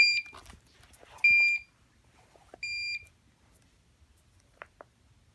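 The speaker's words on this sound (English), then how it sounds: "Why is this beeping at me?" A medical device at a hospital sounds three short electronic beeps spaced about a second apart, clean high tones over quiet room background with a few soft clicks afterward.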